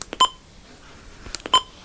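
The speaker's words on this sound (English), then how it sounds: "Then there's a button beeps. You can set it to on or off." Two short electronic button beeps from a Midland WR400 weather alert radio, each a quick tonal chirp accompanied by faint button clicks, separated by a second of quiet.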